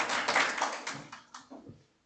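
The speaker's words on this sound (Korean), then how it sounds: "박수로 모시겠습니다" A small indoor audience of staff at a workplace lecture claps to welcome a speaker, a short burst of applause that quickly thins into a few scattered claps and fades.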